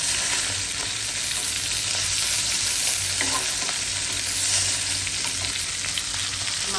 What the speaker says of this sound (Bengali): মাছটা একদম লাল লাল করে ভাজি করে নিলাম